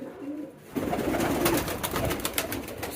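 A pigeon coos close by in low, soft repeated rolls, rising in after a brief quiet start and continuing steadily.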